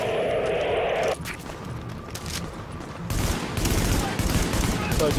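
Gunfire in the video game Tom Clancy's The Division, with loud, sustained bursts of automatic fire and heavier blasts building over a few seconds, while voices speak in the game.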